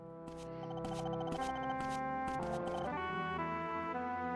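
A telephone rings in the 1998 PlayStation game Mizzurna Falls, a repeating electronic ring in short bursts over soft synthesized background music.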